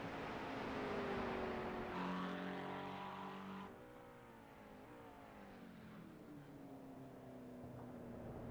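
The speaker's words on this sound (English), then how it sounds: "Safety car pulling away" A V8 safety car in a racing simulator at Phillip Island pulls away, its engine note droning and shifting pitch as it accelerates, fairly steady and moderately distant with no talk over it.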